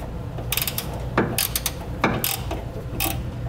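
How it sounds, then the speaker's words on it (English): Close, sharp ratcheting clicks come in several short bursts with pauses as a 9/16 wrench snugs down an air helper spring stud on a 2012 Ford, with no talking. "We'll use a 9/16 wrench to tighten this down."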